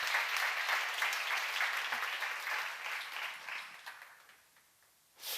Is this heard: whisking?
no